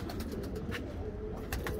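Pigeons from a long-bred heritage line coo steadily at close range, soft low murmuring calls running through the whole stretch with a few brighter bird chirps on top.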